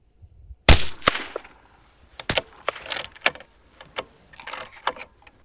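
A rifle fires a single cold-bore shot of factory 143 grain ELD-X ammunition, a sharp, loud crack near the start followed by several fainter clanks and knocks.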